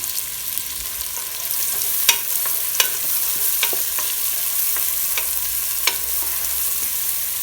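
Chopped onions frying in sesame oil for a mutton biryani, a steady broad sizzle with sharp spoon-scraping taps against the pan every second or so, close and alone with no voices.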